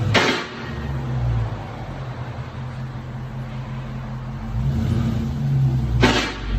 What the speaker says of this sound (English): 2020 Dodge Charger Scat Pack. This is what it sounds like before.